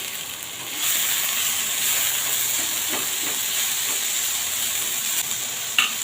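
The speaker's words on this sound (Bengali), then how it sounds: "হাতের সাহায্যে প্যানটাকে ধরে নাড়িয়ে দেবো" Green chillies frying in a pan of hot oil as the pan is shaken, giving a steady loud sizzle and hiss that swells after a quiet start and runs on alone, with a small clatter near the end.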